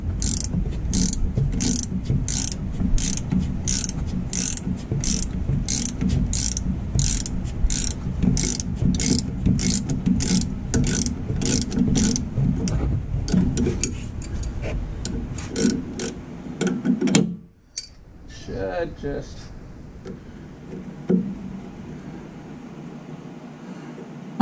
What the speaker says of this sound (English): My fingers are a little weak, so I'm going to use the ratchet.